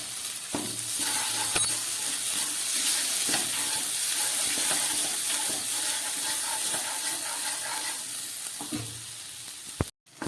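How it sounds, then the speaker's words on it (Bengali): Spices with Kashmiri dried chilli powder are sautéed in a pan for a pea and potato curry, a continuous close sizzle with scraping stirs and a sharp clink or two, ending abruptly. "আমার সমস্ত মশলাগুলো কষানো হয়ে গেছে।"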